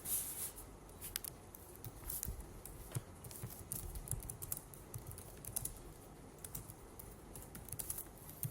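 Light, scattered keystrokes on a computer keyboard enter text into a text box in InPage publishing software. The taps are fairly faint and irregular over a noisy room background.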